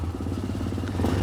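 Air-cooled Yamaha XT600E vintage enduro, a 40-horsepower single, chugging in a brief close burst of rhythmic low pulses with mechanical clatter, rising slightly near the end.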